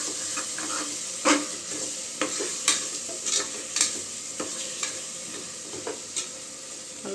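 Chicken biryani masala sizzles in a pan under a spatula, with a continuous frying hiss punctuated by a string of sharp scraping taps against the metal as it is stirred.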